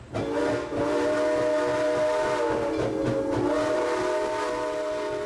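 New York Susquehanna and Western 142, a 1989 Chinese-built Mikado steam locomotive, sounds a loud, steady whistle with a rumbling chuff beneath it, held nearly unbroken for several seconds.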